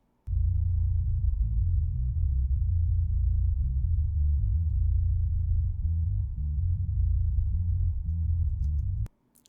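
A deep, steady sub-bass line throbs continuously for about nine seconds, loud and low with pulsing notes, then cuts off abruptly.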